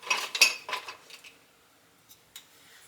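A wooden spoon stirs sugar into grape juice in a pot for jelly making, with a few quick scraping, clinking strokes up close. These fade into near silence, followed by two faint taps near the end.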